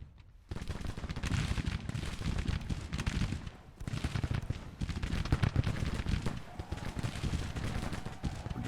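Dense, continuous rifle volleys and crackling musket fire from Civil War infantry in the strategy game Grand Tactician: The Civil War, rolling and overlapping for several seconds with a brief lull midway.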